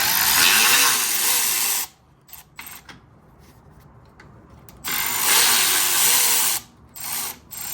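Air ratchet or impact tool removing the fan from an old Honda CR-V radiator, loud close bursts of ratcheting whirr at the start and again later, separated by quieter pauses with small taps.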